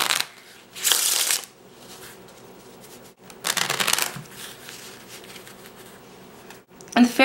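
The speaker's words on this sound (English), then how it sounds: "Here's a look at the shuffling of the deck." A Bicycle Cigar deck of playing cards is riffle-shuffled three times, each shuffle a crisp, close burst of fluttering card snaps separated by quiet pauses.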